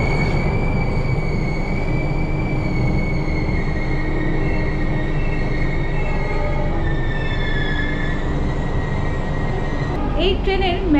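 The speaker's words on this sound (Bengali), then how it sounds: "মাঝখান দিয়ে চলেছে ট্রেন জঙ্গলের মধ্যে দিয়ে যাচ্ছে, সেই জন্য খুব ধীর গতিতে ট্রেন যাচ্ছে।" A Vistadome tourist train moving slowly through dense jungle between NJP and Alipurduar, heard from inside as a loud steady rumble with long high wheel squeals and a brief clatter near the end.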